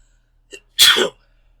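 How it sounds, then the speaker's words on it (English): A single loud sneeze, preceded by a short faint intake of breath, then silence. "I'm going to sneeze."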